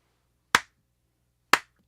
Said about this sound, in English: There's your slow clap. The infamous slow clap.